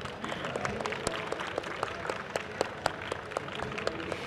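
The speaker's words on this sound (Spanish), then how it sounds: "así que un aplauso para ustedes" Applause from the audience at a Technovation Challenge developers' event, thanking the mentors: a steady patter of many hands with sharper individual claps poking through, moderately close, no talking over it.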